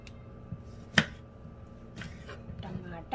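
Knife coarsely chopping green chillies on a board: a few separate sharp chops, one standing out clearly, spaced irregularly over a faint background.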